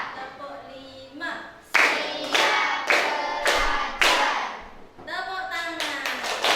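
A classroom of children plays a rhythmic counting clap game, sharp group claps landing in bursts. A teacher's voice calls between them and the claps follow in a short counted pattern, close and fairly loud.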